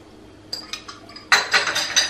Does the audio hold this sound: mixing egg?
yes